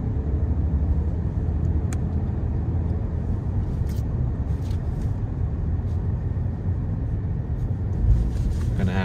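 Steady road traffic on New York City's FDR Drive, heard from inside a moving car as a continuous low rumble of engines and tires, with a few faint brief sounds above it and no talking.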